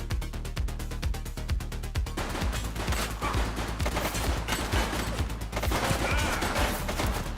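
Rapid gunfire from a shootout in the video game The Precinct, with quick bursts of shots rattling over a steady mix of game sound and music.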